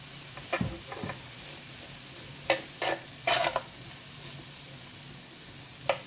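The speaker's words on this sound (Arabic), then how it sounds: "فص ثوم كده صغننين هيشوحوا معاهم برضه." Small garlic cloves sautéing with potatoes in a pan give a low, steady sizzle, punctuated by a few sharp scrapes and clinks of a utensil stirring, close but quiet, with no speech.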